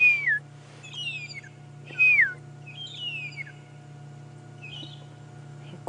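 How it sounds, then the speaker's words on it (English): Magpie shrikes call in the African bush, several clear descending whistles and chirps in separate bursts over a low steady hum. "They're called magpie shrikes. And I can't see one at the moment, but I can hear them chirping and whistling away."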